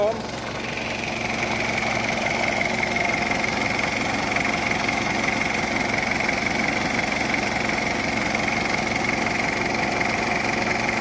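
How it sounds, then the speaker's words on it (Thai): Isuzu KB 2200 four-door pickup, a 1996 model, with its engine idling in a steady, even drone with a faint rhythmic knock, heard close up with no pauses. "มาฟังเสียงเครื่องยนต์กันนิดนึงนะครั"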